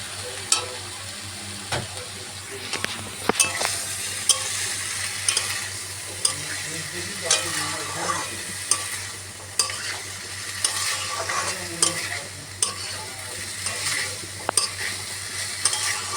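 Peas going into a pan for chana masala, frying with a soft continuous sizzle while a utensil scrapes and taps the pan at irregular intervals, close up and without talk.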